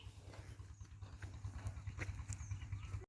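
A donkey cart's hooves clip-clop in a steady quick rhythm close by, a low wheel or cart rumble running underneath, with faint background voices.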